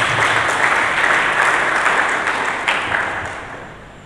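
A congregation at a church service breaks into strong applause, a thick sustained clatter of many hands, loud at first and gradually fading toward the close.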